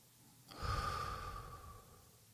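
A long, slow exhale during a mindfulness breathing exercise, starting with a soft intake and swelling into a close, breathy outflow that slowly fades. No one speaks.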